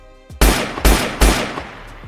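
Three loud, close gunshots ring out in quick succession, each a sharp crack with a ringing tail, from a dramatic action scene.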